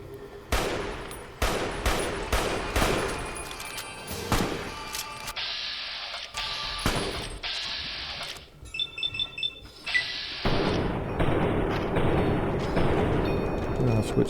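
Sniper rifle fire in the game Fallout New Vegas at Hoover Dam, with several loud sharp shots and booming blasts among sustained tonal alarm-like game sounds, dense and close throughout.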